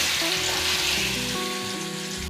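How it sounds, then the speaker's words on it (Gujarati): Chopped ridge gourd added to hot oil seasoned with cumin and asafoetida, a loud continuous sizzle and crackle filling the whole stretch, with faint steady tones underneath and no talking. "હિંગ નાખી અને પછી આપણે તુરિયા નાખી દઈશું"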